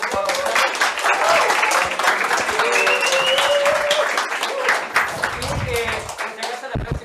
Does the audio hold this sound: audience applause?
yes